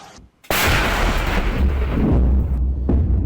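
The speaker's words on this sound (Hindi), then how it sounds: "उसके बाद कैसे चौकियों को उड़ा दिया।" Explosions blow up military posts in Operation Sindoor footage: a sudden loud blast at half a second, then a sustained heavy rumbling roar with continued detonation-like pulses. No speech is heard.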